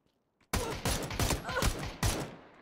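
Rapid bursts of gunfire in the battle-royale game PUBG: Battlegrounds, several loud, close volleys cracking in quick succession with short gaps between them.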